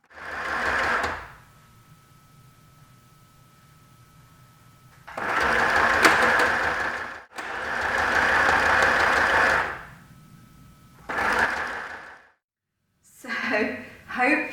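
A sewing machine stitching chevron-patterned fabric runs in several sustained bursts of a few seconds each, with quiet pauses between them, close and loud.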